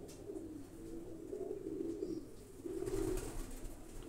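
Pigeons coo in low, repeated throaty phrases while being fed a grain mix, with soft outdoor background and a few faint chirps.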